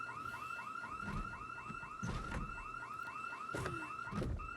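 House alarm ringing in the video game Project Zomboid: a rapid, repeating electronic warble pulsing steadily throughout, with occasional thuds and clicks underneath and no talking.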